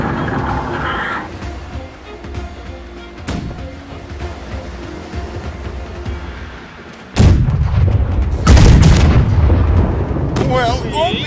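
Ship cannons boom in the naval battle game Blackwake, with a distant rumbling barrage followed by a much louder, closer volley of heavy blasts, under game ambience and some talking.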